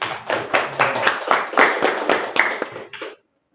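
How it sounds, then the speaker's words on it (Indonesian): Classmates clap for a student in a classroom, a brief close round of brisk, uneven hand claps that stops abruptly after about three seconds. "Oke, beri aplaus untuk Kepa."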